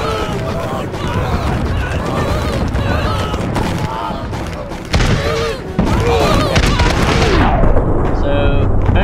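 Tanks fire in the battle simulator game TABS amid a dense, loud clatter of repeated gunfire and booming impacts, continuous over several seconds, with a voice speaking over the chaos.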